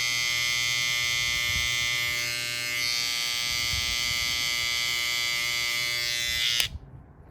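A barber's hair trimmer, freshly zero-gapped, runs steadily with a loud, close electric buzz and whine for about six and a half seconds, then cuts off abruptly with a click.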